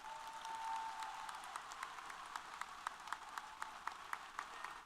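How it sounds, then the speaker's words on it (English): Applause from a university commencement audience, a soft continuous wash of many hands with individual sharper claps standing out toward the end, fairly distant and faint. "let's give him one more big round of applause."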